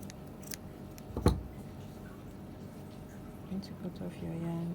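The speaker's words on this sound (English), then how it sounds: "After chaining one, you're going to cut off your yarn." Scissors snip through crochet yarn near the end of a beginner crochet bag project, giving one sharp, close cut amid quiet background noise with a faint voice nearby.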